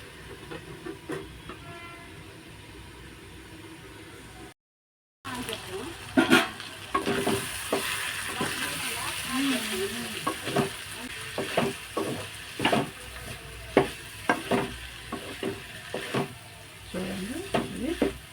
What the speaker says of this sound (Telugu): మాడకుండా మనం ఎక్కువ తిప్పుకుంటూ ఉండాలి మంట మీద